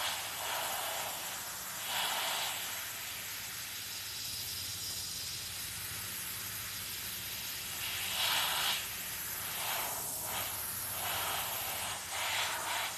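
An airbrush spraying paint gives off a soft, steady hiss, swelling in short bursts as the trigger is worked, quiet and close with no voices.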